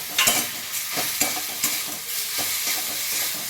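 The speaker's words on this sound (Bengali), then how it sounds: "যেহেতু হাই ফ্লেমে এটাগুলো ভাজছি, সেই কারণে জল বেরায়নি" A beetroot-carrot cutlet mixture fries on a high flame, with steady sizzling broken by repeated scraping stirs of a spatula in the pan and no voices.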